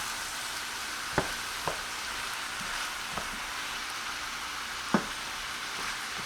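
Steak with peppers, onions and cilantro sizzles steadily in a pot, a dense hiss throughout, while a spoon gives a few sparse knocks and scrapes as it stirs, close and alone without speech.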